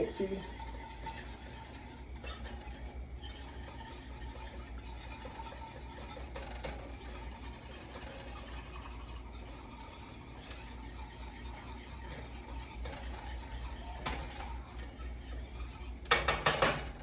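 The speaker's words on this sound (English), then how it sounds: "Give that a nice good little mixy." A utensil stirring sauce in a pan while cooking apple-marinated chicken, producing steady faint scraping and clinking against the metal, with occasional louder knocks and a person talking over it.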